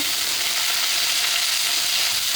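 Prawns roasting in mustard oil in an ordinary pan give a steady, close sizzle and crackle that runs unbroken and evenly loud the whole time, with no voices.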